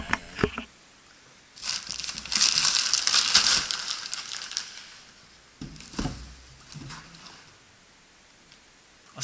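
Packaging being torn open and crinkled for a Dynafit Alpine Pro product, with crackling, crushing plastic and paper rustles in uneven bursts, loudest in the middle, then scattered quieter handling noises close by.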